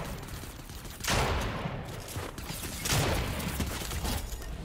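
Gunfire in the video game Fortnite during sniping, with two loud, broad blasts spaced about two seconds apart that echo and decay over a noisy, continuous game soundscape.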